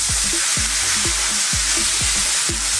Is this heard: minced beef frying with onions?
yes